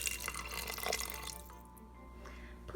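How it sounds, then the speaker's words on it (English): Soaking liquid from mushrooms and dried shrimp is poured over rice in an Instant Pot, giving a splashy, trickling stream with a low hum beneath that thins to drips near the end. "Add enough liquid to just cover the rice."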